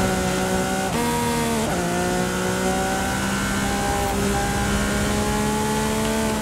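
A race car engine screams at full throttle in Forza Horizon 5 on the Hot Wheels track, a loud steady whine with quick dips at gear shifts before climbing again.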